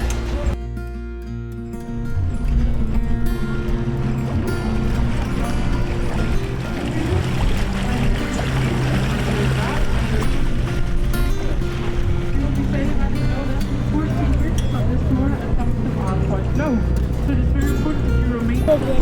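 Steady low engine rumble and water churning as a tour boat moves along the canal in Nyhavn, Copenhagen, continuous and fairly loud, with people talking over it.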